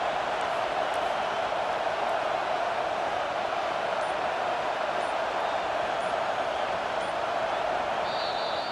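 Home stadium crowd at Tiger Stadium in College Football 25 during an LSU versus Auburn game, as the defense faces third down: a steady, dense, loud crowd roar with no pauses.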